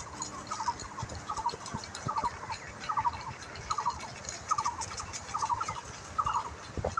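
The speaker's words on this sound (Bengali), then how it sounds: "একদম সুন্দর পাখির আওয়াজ" Repeated gobbling calls from a turkey-like bird in a green countryside setting, about eight bursts at a steady rhythm, moderately loud and close, over a soft outdoor ambience.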